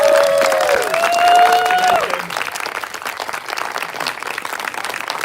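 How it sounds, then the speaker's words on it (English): Audience applause at a Q&A with a film composer, a full room clapping steadily with some cheering and a raised voice at the start, close and loud, tapering slightly toward the end. "can we all just say round of applause for Chris?"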